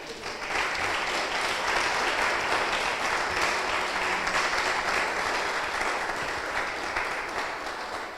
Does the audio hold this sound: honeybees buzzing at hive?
no